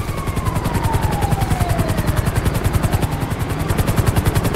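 A helicopter in Grand Theft Auto V Online thumps with a loud, steady rotor beat close by, its rapid regular chopping continuing throughout with a faint descending whine behind it.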